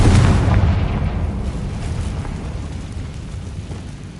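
A Confringo spell blast in Hogwarts Legacy, one loud, heavy explosive boom that rumbles at the start and then fades slowly into a long dull tail.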